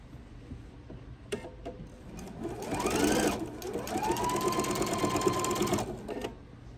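A sewing machine runs steadily while stitching a Noel tree skirt, starting after a brief pause, with a rising motor whine, a short stop and pivot, then a long continuous run before halting; it sounds close and clear with no talk.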